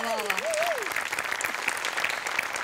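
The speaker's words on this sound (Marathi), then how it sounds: "या स्पिरिटसाठी टाळ्या" A studio audience applauds warmly and steadily through a Marathi comedy show, a dense sustained clatter of hands with a brief voice at the start.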